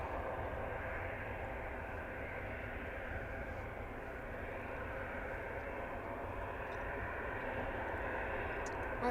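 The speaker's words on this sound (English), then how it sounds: "It's an Airbus A319-100, registration OH-LVD, and it's a 25-year-old aircraft." A 25-year-old Finnair Airbus A319-100 at Manchester Airport gives off a steady, loud jet-engine roar that holds evenly for the whole stretch with no pauses.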